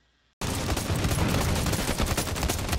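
Rapid video game gunfire bursts in sudden loudly after a brief silence, dense crackling automatic shots filling the rest continuously with no pauses.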